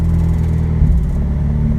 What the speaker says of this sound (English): the car is idling on its own